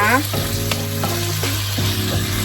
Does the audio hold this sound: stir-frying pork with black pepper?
yes